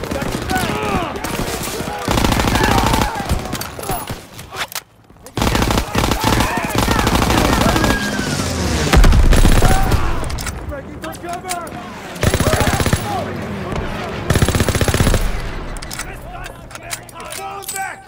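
Rapid bursts of automatic gunfire and single shots crackle loudly through a close-quarters video game firefight around a house, nearly continuous with brief lulls, while voices shout over the shooting.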